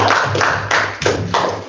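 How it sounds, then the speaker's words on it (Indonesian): A school audience claps for the six candidates at a student council election at SMP Negeri 4 Batu, with steady clapping in a few rhythmic bursts, close and fairly loud. "sekali lagi kita berikan aplaus untuk ke-6 kandidat"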